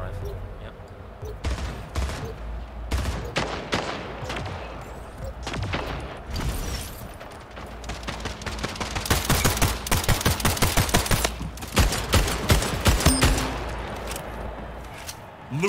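A battle rifle fires in Splitgate alongside other weapons, with quick bursts of sharp, punchy shots that speed into a rapid, loud barrage in the middle before trailing off into scattered reports.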